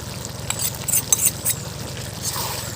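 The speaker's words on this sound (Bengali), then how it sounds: "গুঁড়ো মশলাটা দিয়ে মিশিয়ে নেব।" Ground roasted spices stirred into a simmering papaya and potato curry in a pan, with soft scraping and light clinks of the spoon over a low bubbling hum, fairly close.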